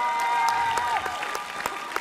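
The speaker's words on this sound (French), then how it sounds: "Merci de les applaudir." Brief applause from an audience at an award ceremony of the École des Nouvelles Images, clapping under a sustained tone in the first half, then loose scattered claps continuing.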